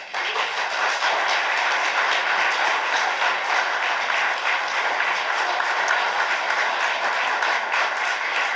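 Sustained audience applause fills a city council meeting chamber, dense and steady at a moderately loud level for the whole stretch, with no talk over it.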